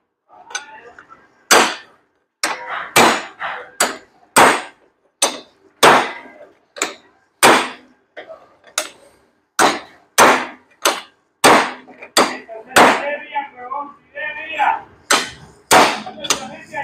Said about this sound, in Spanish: Voy a darle unos pequeños golpes para que me cierre la abertura con el que quedó.